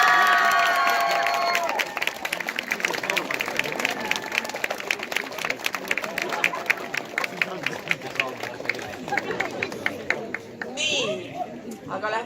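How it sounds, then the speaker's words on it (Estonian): Crowd of students and guests clapping and cheering for a singer at a school name-day ceremony in Tartu, a steady dense wash of applause with voices and shouts mixed in throughout. "neile veel üht suurt aplausi"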